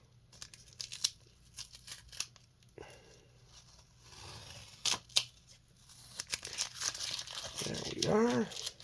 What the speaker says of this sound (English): let's take the old green painter's tape off.